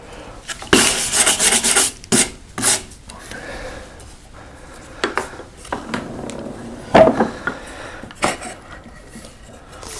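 A V tool cutting a blossom pattern into hardwood makes scraping, rasping strokes with short pauses and a few light knocks, close up and moderately loud.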